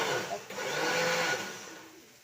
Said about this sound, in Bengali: মা মিক্সির মধ্যে মিশিয়ে নিয়ে সব মশলাগুলো, টমেটো লঙ্কা আর মালাই